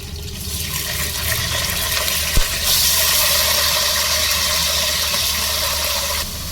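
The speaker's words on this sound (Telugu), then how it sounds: "పచ్చిమిర్చి ఆలు కట్ చేసుకొని కడిగి పెట్టి" Cut potatoes and green chillies rinsed under running water: a steady, loud rushing stream from a tap, with one brief knock partway through, continuing close and alone.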